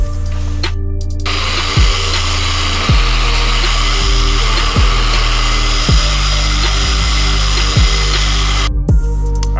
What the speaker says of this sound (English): He's gonna use 600 grit. We're basically gonna change the lines to a smaller line that the DA leaves behind.